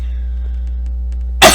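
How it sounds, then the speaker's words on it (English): A single short, harsh cough bursts out near the end, close by, over a steady low electrical hum. "Coughing to death, so sorry"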